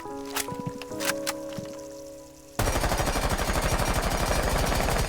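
M4 rifle fire in the game Rainbow Six Siege. A few separate shots ring out first, then a long rapid-fire burst runs steadily to the end, loud and close.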